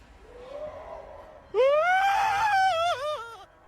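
A man's terrified scream bursts out loud and close, a rising then wavering high-pitched shriek that lasts about two seconds after a fainter, lower moan.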